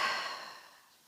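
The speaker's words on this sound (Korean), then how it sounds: "마시고 내쉬고 마시고 내쉬고" A single soft exhale during a bridge hip-lift exercise: a short breathy rush of air that fades out within about a second, close and quiet.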